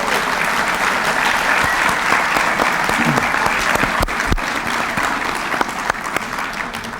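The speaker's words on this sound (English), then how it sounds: "I'll ask the members please to please rise when I mention you and accept the applause of the audience" An audience applauds Hall of Fame members as they rise: dense, steady clapping from a large crowd, sustained at an even level for the whole stretch with only a slight easing near the end.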